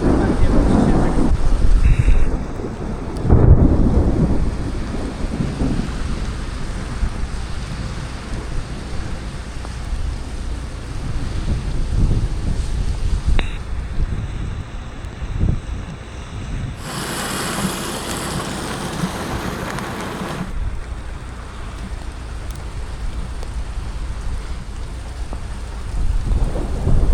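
Heavy thunderstorm over Podhale in Poland, with torrential rain hissing steadily throughout and deep thunder rumbling, strongest near the start. A voice is heard briefly and a loud burst of noise cuts in partway through.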